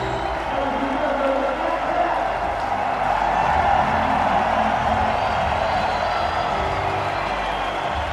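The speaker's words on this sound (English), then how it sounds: "Very happy crowd." A cricket crowd at the close of the 2005 Australia vs New Zealand third ODI roars in a steady, dense wash of cheering and clapping that holds for the whole stretch.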